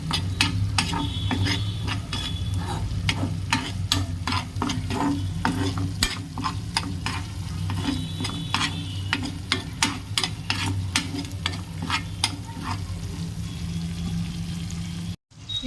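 Ground spice powder being stirred into a frying mixture in a pan, with a constant close sizzle under a quick, rhythmic series of spoon scrapes and knocks against the metal, stopping abruptly at the end.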